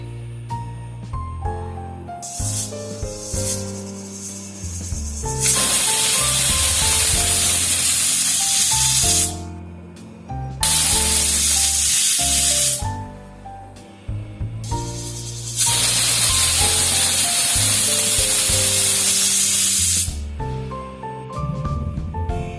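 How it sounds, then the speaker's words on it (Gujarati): A pressure cooker on high flame, cooking farali khichdi with bottle gourd, potato and sago, lets out three long, loud hissing whistles separated by short quieter gaps. "આને આપણે કુકરનું ઢાંકણું બંધ કરી અને હાઈ ફ્લેમ પર એને હું ત્રણ સીટી વગાડી લઈશ"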